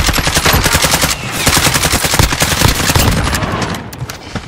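Rapid automatic gunfire rattles loudly and close in a Call of Duty Warzone match, with dense bursts of shots running almost without a break before trailing off at the end.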